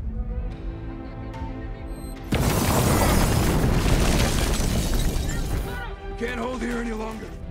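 A large explosion in an action film where troops blow up a location, a sudden heavy boom with roaring, crackling debris that rumbles for several seconds before fading under tense music.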